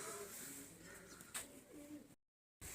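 Pigeons in a coop give soft, low cooing calls close by over a hissy background, with one brief sharp sound before the audio cuts out briefly.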